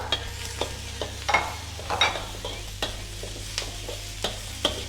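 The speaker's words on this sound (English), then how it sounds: "So now is the time to add in the garlic and the coriander." Garlic and coriander fry with onions in a pan for a braised pork dish, a soft sizzle under repeated stirring scrapes and taps of the utensil at an uneven rhythm, close up with a low steady hum beneath.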